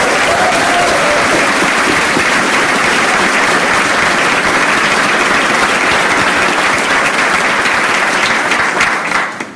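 Loud, sustained applause from a large audience at a Doctor of Physical Therapy graduation ceremony for the class of 2019, a dense steady roar of many hands clapping that fades slightly at the very end.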